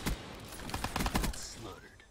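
Rapid video game gunfire in Black Ops 3, a Gauntlet match on an Awakening DLC map: a quick series of sharp shots, fairly faint, with a light voice nearby.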